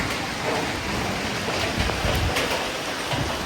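Steady, dense rain pours down, a continuous hiss of drops hitting leaves and ground close by.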